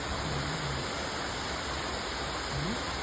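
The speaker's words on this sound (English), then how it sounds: "Look at this massive waterfall." Massive waterfall beside the Rishikesh Badrinath highway near Byasi, a steady, loud, broadband roar that does not change, with a faint low murmur beneath it.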